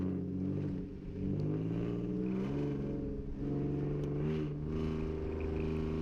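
Hyundai Genesis Coupe accelerating down a straight at a night SCCA autocross event, heard from inside as a loud rising and falling engine drone through several gear changes, no talking.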